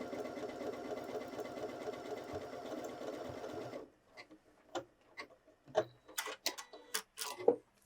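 A Janome 6700P sewing machine stitches a buttonhole automatically, a steady loud whirring hum for about four seconds before stopping, followed by scattered small clicks and taps.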